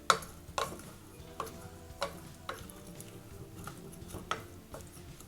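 A spoon stirring mashed elephant foot yam with tamarind in a pot, a series of soft regular scrapes and taps against the pot over a faint simmer.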